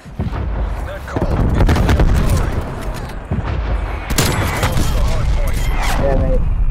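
Heavy gunfire and booming artillery blasts from the Call of Duty Cold War video game, loud bursts of shots and explosions recurring throughout, with voices talking over the combat.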